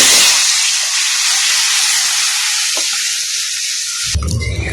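Tamarind water poured into hot oil with tempered spices for a sour prawn curry, giving a loud, steady sizzling hiss that fills the pan for about four seconds before cutting off abruptly into a brief clatter.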